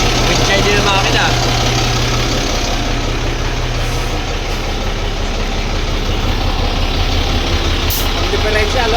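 A brand-new Shacman 240 six-wheeler truck idles close by with a steady, loud, even engine rumble that runs without a break, while people talk nearby.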